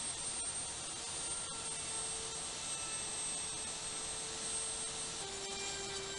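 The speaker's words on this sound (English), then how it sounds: "it's time to make the final pass" A router guided by a circle jig whines steadily through a tabletop on a final shallow pass, its even high motor drone carrying unbroken at moderate level with no voices over it.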